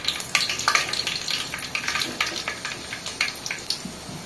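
Soft, steady crackle of fenugreek seeds sizzling in hot oil on low heat, with scattered light pops throughout; fairly quiet and close, no voices.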